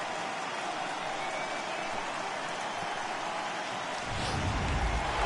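During a baseball game in the video game MLB 18, steady rain hisses evenly throughout, with a faint crowd murmur beneath and a little louder, rumbling stretch near the end.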